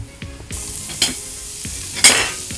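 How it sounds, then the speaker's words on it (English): Stir fry tossed in a large pan over a big burner, sizzling steadily with loud scraping stirs and a few sharp clatters of the utensil against the pan, close up and with no talk. "we're going to do a stir fry, so we'll go on a bigger burner"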